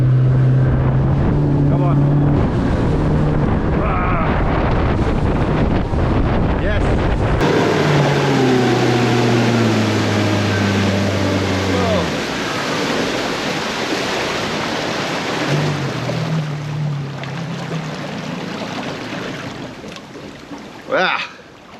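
Motorboat outboard revving hard to get up on a plane across choppy creek water, the engine pitch climbing and then holding a strained drone amid heavy wind buffeting and splashing, with someone speaking briefly.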